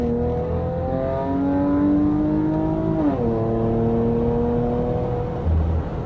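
A Chrysler 300 engine revs in gear under throttle, loud and close, its pitch climbing slowly, dipping briefly at one point, then rising again, with no talking.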